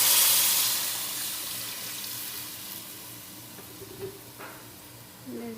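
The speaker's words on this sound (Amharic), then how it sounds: "ከዚህ በኋላ ውሃ ነው የምንጨምረው። የፈላ ውሃ አለ።" Boiling water is poured into a pot of rice with peas, a steady rushing pour that starts loud and slowly eases off, with no talk.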